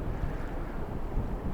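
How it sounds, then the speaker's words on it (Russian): Rough sea beats against a rocky shore in snowy weather, with a steady low roar of waves and wind buffeting the microphone. "Море так и не успокоилось. Волна все так и бьет."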